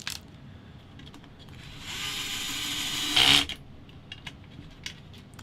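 Power tool drives JIS screws into a Tamiya Yaris M05 model car kit, a brief mechanical whir rising over about two seconds to a short, louder burst before stopping, set against quiet room background.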